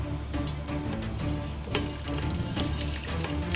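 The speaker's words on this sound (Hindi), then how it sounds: "अब इसमें मैं चावल मिक्स कर रही हूँ।" Rice is stirred into a pot of beef pulao, with steady sizzling and bubbling and a few sharper scrapes and knocks of the spoon, close and continuous, with no speech.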